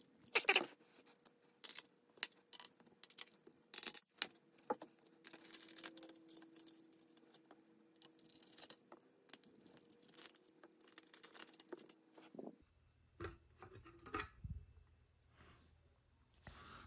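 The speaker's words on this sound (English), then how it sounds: "So it actually attached to the heatsink, so we have to unscrew some more." Screws being backed out of the heatsink inside a Deciso DEC740 OPNsense desktop firewall appliance, heard as small scattered metallic clicks, scrapes and rattles of a screwdriver and loose parts, close up and fairly quiet, with no talking.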